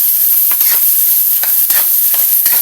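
Tomatoes sauté in hot oil for a home-cooked ginisa, giving a loud, steady close hiss of sizzling, with a few soft scrapes of stirring breaking through at intervals.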